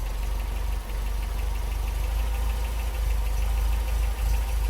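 An MG BGT engine idles steadily with its carburettor mixture set rich, a continuous low rumble with a faint knocking pulse running through it, close and fairly loud, and no one speaking.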